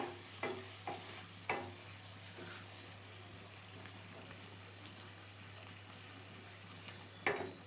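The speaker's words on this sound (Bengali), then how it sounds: "জল দেওয়ার পরে গ্রেভিটাকে নাড়িয়ে দেবো" A spoon stirs fish kalia gravy, made with katla fish and a cup of added water, in a quietly simmering pan, giving a few soft scrapes and knocks over a faint, steady sizzle and low hum.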